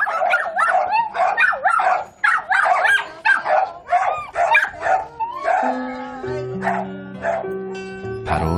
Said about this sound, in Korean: 그런데 갑자기 짖기 시작한 개들.